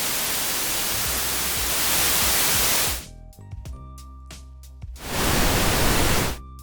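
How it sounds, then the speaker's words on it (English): A broadband white noise test signal hisses in a steady, loud wash, cuts off into a stretch of quieter tonal sound, then returns briefly before stopping. "Now let me contrast that with white noise,"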